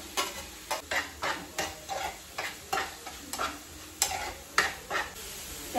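Onion and tomato cooking in a pan, a steady quiet sizzle broken by regular, rhythmic scrapes of a spatula stirring every half second or so.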